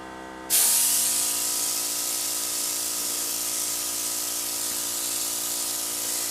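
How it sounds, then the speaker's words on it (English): An airbrush sprays paint onto a Patsy doll's hair, starting abruptly and then holding a steady, close, bright hiss without a break until the end. "I'm starting to find airbrushing not as tense as it used to be."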